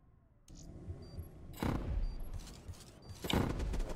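Several muffled gunshot bursts from Black Ops 3, booming thumps in quick clusters over a steady background noise.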